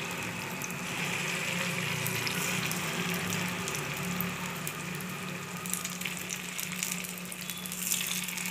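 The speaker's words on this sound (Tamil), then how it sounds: "கொஞ்சம் கொஞ்சமாக மாவு எடுத்து இந்த மாதிரி ஊற்றி விட்டுடணும்." Paniyaram batter frying in a hot paniyaram pan, a soft continuous sizzle and crackle, steady and fairly quiet with no talking.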